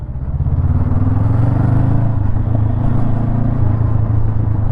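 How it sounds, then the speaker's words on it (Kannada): A 2024 Honda NX500 with a parallel-twin engine and six-speed gearbox runs under way, giving a loud, steady low rumble with a smooth throbbing drone and slight rises in pitch throughout. "Parallel twin engine."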